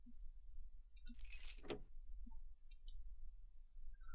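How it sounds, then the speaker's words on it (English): Car keys are picked up and jangle in the video game Scratches, a short bright metallic jingle in the middle with a few faint clicks around it and a quiet low hum. "Car keys."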